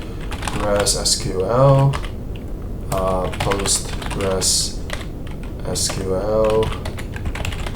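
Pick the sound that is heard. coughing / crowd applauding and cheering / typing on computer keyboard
typing on computer keyboard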